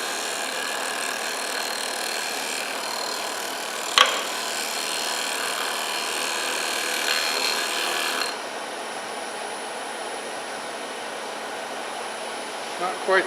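A lathe gouge cuts a dried green wood bowl blank, giving a steady scraping, hissing rasp with one sharp knock partway through, then the cutting stops and a faint high machine hum remains.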